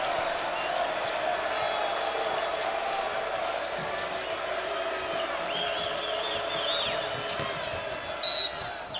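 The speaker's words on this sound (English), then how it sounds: "Crowd comes to life." Basketball arena crowd during a Mississippi State vs South Carolina college game, a steady roar of distant cheering that swells with a few whistles and squeaks near the end.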